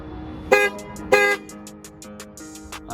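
Two short, loud blasts from a restored Alfa Romeo car horn, close by, followed by fainter clicks and rattles.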